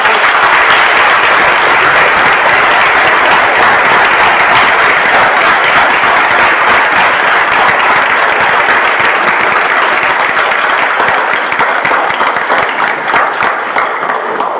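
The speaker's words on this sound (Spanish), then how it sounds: "Y expresamos esa alegría con un fuerte aplauso." Loud, sustained applause from a congregation welcoming Padre Claudio Molina at a prayer gathering, dense clapping holding steady for about fifteen seconds before thinning slightly near the end.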